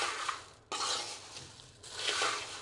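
Puffed rice being tossed and mixed with turmeric and chevda in a metal vessel, a steady dry rustling and clinking that runs in bursts with brief pauses, close and fairly quiet, with no talking.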